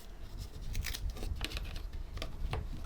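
Scissors snip and trim quilt fabric pieces up close, a series of quick crisp cuts and light rustles in an irregular rhythm.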